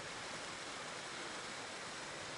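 A small mountain stream on the Colorado Trail near the Holy Cross Wilderness, heard as a steady, close, broadband rush of flowing water with no voices over it.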